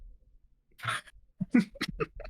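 A few short, harsh coughing bursts in quick succession after a brief pause, fairly close and moderately loud.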